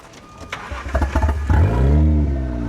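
A purpose-built drift car's engine cranks briefly, then catches and settles into a loud, steady idle with harmonic drone, preceded by a few clicks and clunks from the car.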